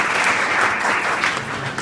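Steady applause from a class of students at Prayag Inter College in Bilariyaganj, a dense continuous patter of many hands clapping that holds for the whole moment without pause.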